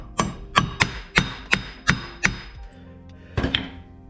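Repeated heavy metallic pounding on the rear axle of a 1998 Subaru Impreza 2.5RS, about seven evenly spaced ringing blows close up, followed after a pause by a couple more hits.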